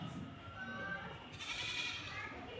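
A goat bleating outside on the ground behind the house, a drawn-out cry heard at moderate distance over steady background noise.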